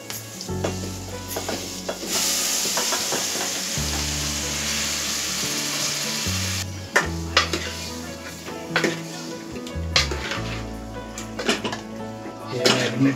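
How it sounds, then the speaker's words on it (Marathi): Marinated chicken drops into hot spiced tempering oil for a spicy Agri-style curry, a loud sizzle surging up, with metal utensils clanking against the pan and repeated stirring, while a person talks intermittently. "आता त्याच्यात चिकन आपलं टाकून घ्यायचं."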